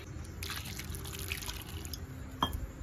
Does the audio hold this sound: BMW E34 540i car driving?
no